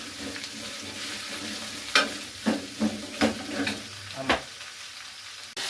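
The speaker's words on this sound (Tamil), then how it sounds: "பச்சை மிளகா வெங்காயம் உருளானது இதை போட்டு நன்றாக வணக்க வேண்டும்" Green chili, onion and potato sautéing in a pan: a steady sizzle with several loud scraping stirs of a spatula at irregular intervals, close and without talk.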